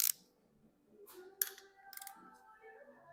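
A torque wrench set to 80 foot-pounds clicks as it tightens a crankshaft main cap on a 400 small-block Chevy, producing a few faint, sharp metallic clicks spread over a quiet moment.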